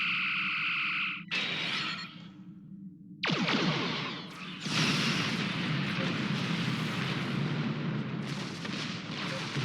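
Enemy ships fire on the player's ship in Star Trek Online: loud blasts and explosive weapon bursts follow a tonal beam hum, with sweeping whooshes and sustained roaring fire later on.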